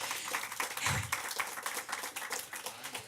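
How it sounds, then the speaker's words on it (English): Audience applause at a women in eSports games and tech event in Cologne, a dense, steady patter of many hands clapping at moderate distance for about three seconds, with no voices over it. "big round of applause for David Smith."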